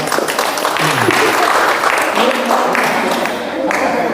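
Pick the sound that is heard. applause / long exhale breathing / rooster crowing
applause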